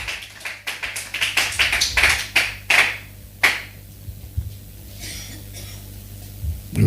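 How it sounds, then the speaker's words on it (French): A church congregation claps in a brief run of sharp hand claps that thin into scattered taps and then quiet room sound, with a low hum underneath. "Let's clap for the Lord."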